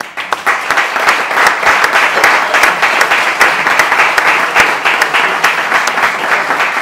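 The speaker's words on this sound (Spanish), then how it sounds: "merece un aplauso muy especial" A large audience applauds steadily at a closing ceremony marking a school's 75th anniversary, dense continuous clapping from many hands filling the room with no break throughout.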